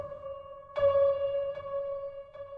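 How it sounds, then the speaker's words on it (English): A soft keys melody produced in FL Studio, run through an envelope phaser from Filter Freak, delay and reverb, gives a sustained tonal line with gentle note changes and a washy, swirling tail. Quiet and alone, with no voices. "The first effect I started with was Envelope Phaser from Filter Freak."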